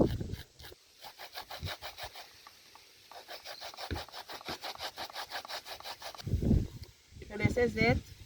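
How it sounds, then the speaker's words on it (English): Coconut scraped on a grater in a home kitchen, a close, rhythmic rasping of rapid repeated strokes. Voices come in briefly near the end. "We have finished grating our coconut."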